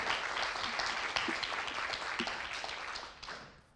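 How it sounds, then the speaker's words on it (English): An audience at a literature prize announcement gives a warm round of applause, dense clapping with a few sharper nearby claps, gradually thinning and tailing off toward the end. "please give her a massive round of applause"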